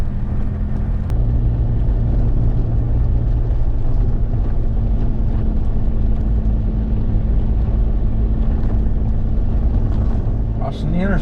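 Four-wheel drive vehicle engine running steadily while driving through water on the TransAmerica Trail in Oklahoma, a loud continuous low drone with constant rushing noise and a faint voice underneath.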